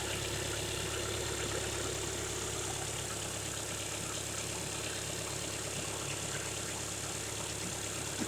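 The diesel engine of a 2015 Volkswagen Golf TDI SportWagen idles steadily and loudly nearby, a constant clattering rumble with no change in pace throughout.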